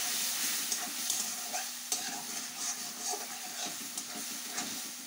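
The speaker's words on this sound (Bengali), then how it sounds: "আর একটু ভেজে নেব।" Chili powder paste and spices fry in a pan with panch phoron and mustard paste while being stirred, a steady close sizzle and hiss with frequent scraping taps of the spoon.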